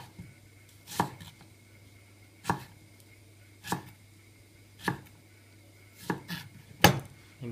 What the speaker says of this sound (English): Chopping an onion.